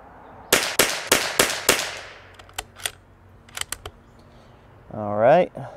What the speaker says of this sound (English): we're gonna shoot the first five of this RWS special match